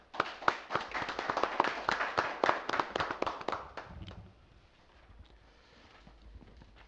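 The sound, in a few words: audience clapping at union debate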